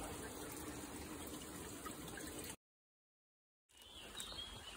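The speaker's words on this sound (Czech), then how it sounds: "Napouštíme vodu." Water runs into a container on a long hiking march, a steady gushing flow that cuts out abruptly for about a second, then resumes slightly quieter.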